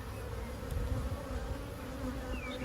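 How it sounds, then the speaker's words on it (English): Dense, continuous buzzing of many bees close by during a top bar hive inspection, a low droning hum that stays steady with no voices. "Bees get out of the way generally. A few of them jump on the hive tool."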